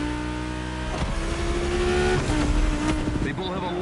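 A turbocharged 1990 Audi Coupe Quattro of over 800 horsepower in The Crew video game revs hard and close, its tone climbing and shifting through gears. A rougher burst of engine noise comes near the middle, and a faint voice is heard.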